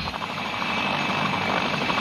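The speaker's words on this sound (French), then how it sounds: "souvent l'hélicoptère a tendance à se dandiner à l'atterrissage" Helicopter landing during a 1989 world helicopter championship at Chantilly, a loud, steady rotor and engine roar filling the whole stretch without a break, close and unaccompanied by voices.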